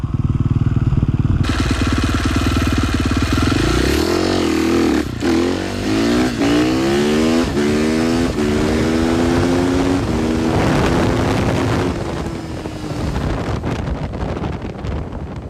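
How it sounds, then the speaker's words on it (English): A KTM 450 dirt bike on a street tire accelerates hard from 0 to 60, its engine note rising through several gear shifts under heavy wind buffeting, loud and close as the revs climb and drop with each shift. "here's a 0 to 60 on the draggy for Will"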